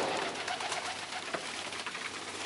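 Tippler pigeons in a trap coo softly amid a steady broadband rustle and outdoor hiss, with low, indistinct calls running under the noise and no talking.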